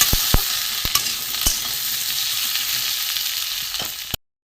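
Pumpkin and potato pieces fry in a hot pan with a steady, close, bright sizzle. A few sharp spatula scrapes and taps mark the stirring, and the sound cuts off abruptly near the end.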